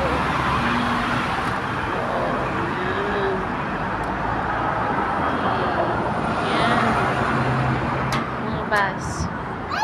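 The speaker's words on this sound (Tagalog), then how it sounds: "Bus." Street traffic on Java Road in Quarry Bay, Hong Kong, with a bus passing: a steady, loud rumble of engines and road noise fills the scene, while a voice speaks briefly over the din.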